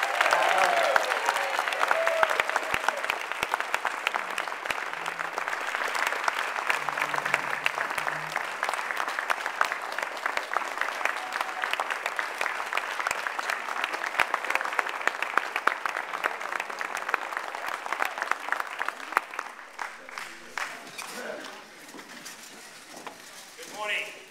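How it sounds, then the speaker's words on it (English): A crowd at a New Mexico commission meeting gives a sustained, warm round of applause for the treasurer, dense clapping that holds steady for about twenty seconds before thinning out and fading near the end. "Let's give a warm round of applause to our treasurer"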